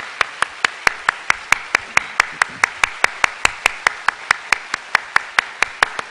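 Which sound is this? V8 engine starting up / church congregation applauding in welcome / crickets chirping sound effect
church congregation applauding in welcome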